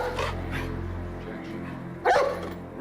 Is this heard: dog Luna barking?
yes